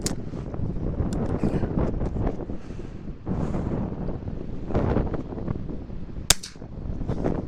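Strong wind buffets the microphone throughout; a few shots from a Chiappa Little Badger small-caliber rifle crack, one sharp and loud near the end.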